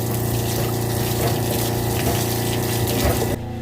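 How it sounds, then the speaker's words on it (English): A loud, continuous mechanical hum with gushing water as a Mercury 600 outboard motor pumps water, churning steadily before its tone drops abruptly near the end. "Pumping water."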